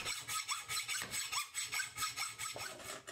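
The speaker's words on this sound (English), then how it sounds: "So I tackle that first with a hacksaw," A hacksaw cuts casting flashing and a large lump from a metal casting, giving steady back-and-forth rasping strokes of about two per second, close and alone.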